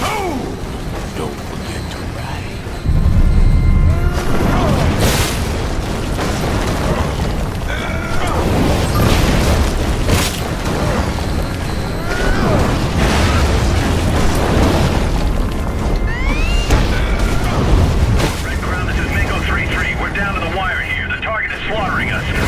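Soldiers opening fire in the video game Prototype 2: sustained loud bursts of gunfire and explosions with an aircraft-like roar over about twenty seconds, mixed under radio-style voices talking.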